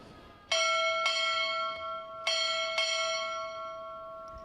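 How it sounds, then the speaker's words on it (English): A ship's bell strikes four bells at a U.S. Navy boot camp graduation ceremony, ringing four times in two pairs, each clear metallic strike ringing out and decaying before the next; no talking. "Time orderly, strike 4 bells."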